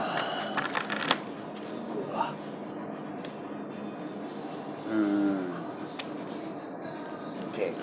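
A deck of tarot cards is shuffled by hand, giving scattered crisp snaps, flicks and a short riffling burst in a quiet room, with light handling noises between them.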